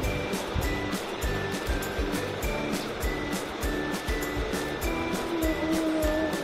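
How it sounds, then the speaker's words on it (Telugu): Toor dal being rinsed in water before going into a pressure cooker, with steady sloshing and swishing close by and soft rhythmic pulses throughout, no speech. "Ee kandipappu nu rendu saalu shubhranga kadukovali"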